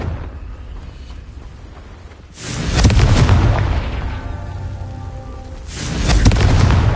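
A Confringo fire spell explodes in Hogwarts Legacy, a deep booming blast after a quieter stretch, followed by a rumbling tail and a second heavy boom near the end, loud, with no voices.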